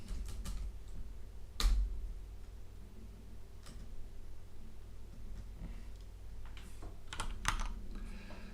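Keystrokes on a computer keyboard tap out in quick irregular bursts with a few louder clacks, close and fairly quiet against a low steady room hum, no talking.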